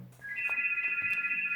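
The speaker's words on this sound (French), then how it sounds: "c'est le téléphone qui n'arrête pas" Telephone ringing indoors, a steady electronic warbling ringtone that starts abruptly and continues unbroken at moderate loudness, with no talk.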